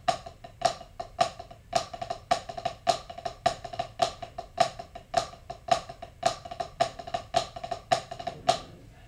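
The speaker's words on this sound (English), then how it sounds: "So now we're going to go to a flam drag, which is basically where the diddle is on the second beat." A flam drag rudiment is played over and over on a drum, each flam followed by a quick diddle, making an even, crisp, repeating tapping rhythm of about two figures per second, close and alone.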